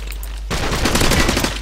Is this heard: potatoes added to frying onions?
no